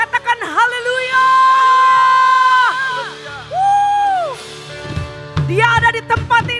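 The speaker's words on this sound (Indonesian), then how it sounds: "berikan tepuk tangan yang terbaik buat Tuhan Yesus" A church congregation on its feet cheers during a worship service, with loud, sustained whoops and drawn-out shouted voices rising and falling. The cheering is near, with clapping hard to pick out.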